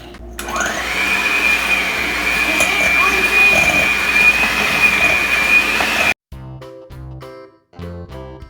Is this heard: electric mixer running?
yes